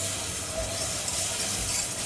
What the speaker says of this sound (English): And while we're stirring that through, I'm going to add in 3 cups of full cream milk